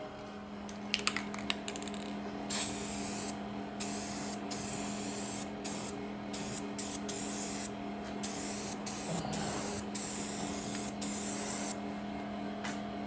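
Spray paint hisses steadily onto the engine bay of a Dodge Charger, a continuous close, even rush with a few short pauses between passes and a low steady hum underneath.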